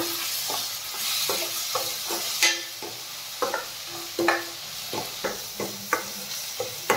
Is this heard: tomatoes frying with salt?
yes